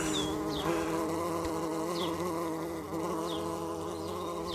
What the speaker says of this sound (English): Oh, yeah, plenty of bees. Look at that.